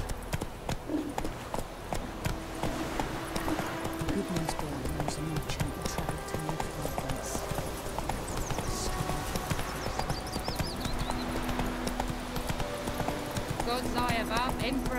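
Roach the horse gallops in The Witcher 3: Wild Hunt, a steady clip-clop of hooves running throughout under a game score, with voices talking over it.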